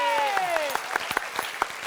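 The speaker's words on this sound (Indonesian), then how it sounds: "kita kasih tepuk tangan dulu dong buat Kiwil, Puati, dan juga Narji" Studio audience clapping for guests on a variety comedy show: a burst of separate sharp claps, fairly close, starting under a fading musical tone and continuing in an uneven rhythm.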